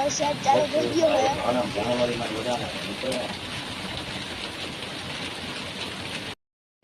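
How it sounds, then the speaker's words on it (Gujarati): Rain begins falling on a farm field at sowing time, a steady broad hiss of drops close by, while someone talks over it for the first few seconds before the rain continues alone. "તો મિત્રો વરસાદ ચાલુ થઈ ગયો હે."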